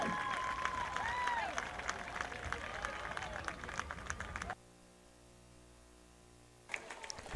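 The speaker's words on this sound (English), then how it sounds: "Emerald Dancers, let's give them a big round of applause, Canyon Lake." Crowd applause and cheering for dancers at a high school football game, Canyon Lake Hawks versus Austin LBJ, heard fairly faint and distant with whistle-like tones, cutting out briefly before resuming.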